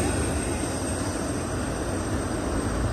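A Norfolk Southern freight train rolls past close by with a steady, dense rumble and rushing noise that holds at an even level throughout, without any break.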